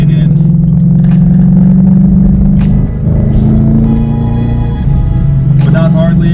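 A car on a BAMA 93 race tune pulls through a moderate, not full-throttle acceleration, with steady engine drone rising slightly over several seconds while someone talks throughout.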